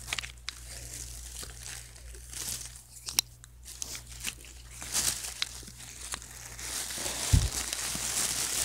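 Someone bites and chews a Kinder Joy cookie and marshmallow treat at close range, with crinkly crunches and soft mouth noises in an irregular rhythm and a brief louder knock near the end.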